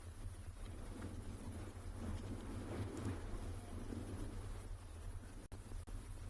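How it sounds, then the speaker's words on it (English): Steady wind blowing across the microphone outdoors near water in South Africa, a constant low rumble with gusty broadband noise, no voices. "maybe even hear that it's actually quite windy out here today"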